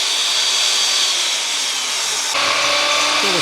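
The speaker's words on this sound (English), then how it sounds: "we're using a 7/4 inch steel saw to make this cut" Steel hand saw cutting wood for a diminished edge housing joint, a loud, continuous rasping that runs unbroken and close, with a slight change in tone partway through and no talking.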